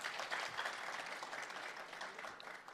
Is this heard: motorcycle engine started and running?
no